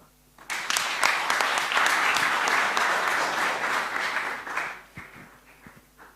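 Audience at a boys' seminar breaking into applause, a dense wash of many hands clapping that starts abruptly, holds loudly for several seconds, then thins out into scattered claps near the end.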